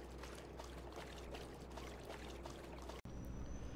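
Water splashing steadily as Max, a playful pet, romps in it, a continuous faint watery churn with a short break near the end.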